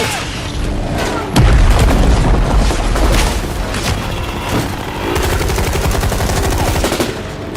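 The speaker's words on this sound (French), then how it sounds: "Lance-roquette." Rocket launcher fire amid combat between rebels and the army in the Central African Republic: a loud boom followed by sustained bursts of nearby automatic gunfire and scattered shots.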